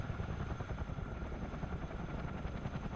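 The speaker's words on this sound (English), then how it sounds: "Just keep saying anybody that wants a helicopter, this is the one to get." Steady helicopter rotor and engine noise from a helicopter flying in Microsoft Flight Simulator 2020, a continuous even drone with rhythmic blade chop, fairly quiet and uninterrupted, with no talking.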